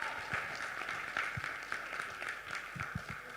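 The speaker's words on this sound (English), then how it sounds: "Beg on a round of applause to Kimon now." Applause from a conference audience at a youth program event, a steady dense patter of clapping with some louder individual claps standing out over a continuous wash of hands.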